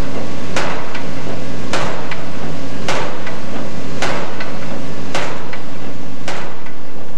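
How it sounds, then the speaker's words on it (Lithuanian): Heavy pile driving during construction of a fishing pier at the Port of Klaipeda in 2001, six loud booming impacts spaced roughly a second apart, each with a ringing decay, with no talk. "iškilmingai jau įkalti pirmieji žvejų prieplaukos statybos poliai"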